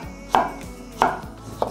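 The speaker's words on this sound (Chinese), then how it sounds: "把小黄瓜切丝" Knife slicing a cucumber into thin strips on a cutting board, three crisp separate chops about two-thirds of a second apart, close and clear with no talk.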